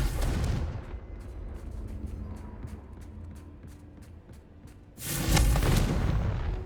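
A Confringo fire spell explodes in the video game Hogwarts Legacy: a deep, loud boom at the start rumbles away, a sparse ticking follows, then a second heavy blast erupts near the end.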